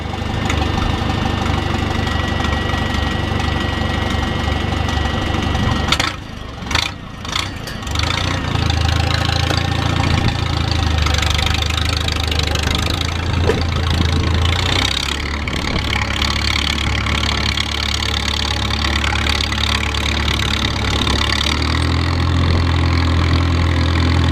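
A small engine idles roughly and loudly up close, its carburetor needing adjustment, with an uneven knocking rhythm, a brief stumble partway through, and changes in its running pitch.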